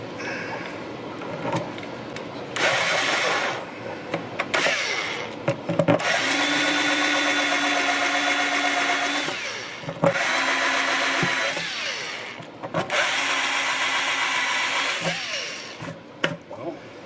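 Step drill bit bores a hole through the bottom of a plastic bucket, a steady high-pitched whine with grinding bursts running several seconds at a time, stopping and restarting about four times close by.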